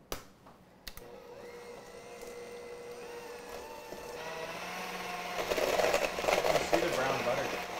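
Electric hand or stand mixer beating cake batter for a pineapple upside-down cake: a steady whirring motor hum that builds and gets louder and busier toward the end, with a brief clunk near the start.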